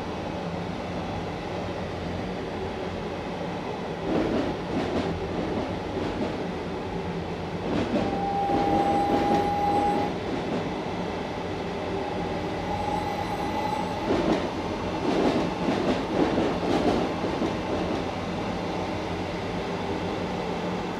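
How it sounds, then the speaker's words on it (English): A video-game train rolls along with a steady rumble, rhythmic clicks over track joints and a thin, high flange squeal rising briefly twice. "the track joint sounds or the flange squeal"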